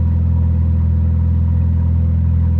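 A turbocharged Volvo car engine drones steadily while cruising, a loud, close, continuous low rumble with a strong pulsing bass and no speech.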